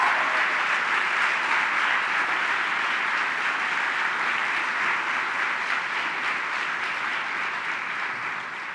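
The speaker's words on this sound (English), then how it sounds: "Please give each and every one of these a round of applause." A room full of people applauding nursing professors at a nursing pinning ceremony, with loud, dense, sustained clapping that carries on evenly for nearly nine seconds and tapers slightly at the end, without speech over it.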